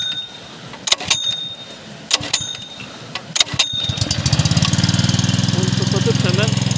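After a few sharp knocks and clicks, an engine catches and settles into a loud, fast, steady chugging as the throttle is pressed, running continuously up close.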